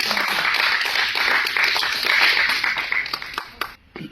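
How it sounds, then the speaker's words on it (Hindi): Dense, loud applause fills a small gathering at a book presentation, holding steady for a few seconds before thinning out and tapering to a few last claps. "जोरदार तालियां."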